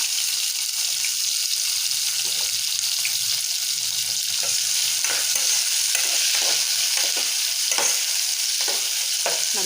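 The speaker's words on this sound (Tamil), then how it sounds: "நல்லா வதக்கிட்டு" Tomato, onion, curry leaves and green chillies sauté in a pan, giving a steady close sizzle broken by scraping stirs and soft clatters, with no voices.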